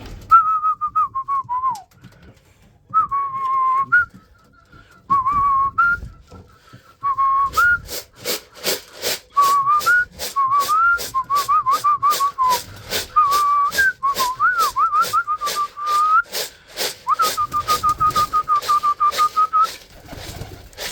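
A person whistles repeatedly in varied, warbling phrases to call pigeons while they eat, loud and close, with a steady rhythmic tapping or rattling joining in partway through.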